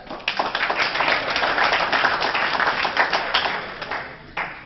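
A breakfast-event audience claps for themselves, a dense burst of hand clapping from a crowd rising quickly and holding steady for several seconds before tapering, with a last few claps near the end.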